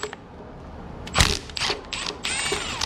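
A wrench clicks and ratchets in short, irregular bursts while a bolt is loosened from an engine block during a K-swap build, close up and with no talking.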